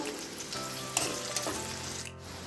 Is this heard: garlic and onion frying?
yes